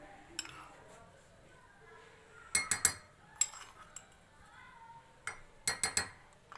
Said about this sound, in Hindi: इसको अच्छे तरीके से ठंडे दूध में मिक्स कर लें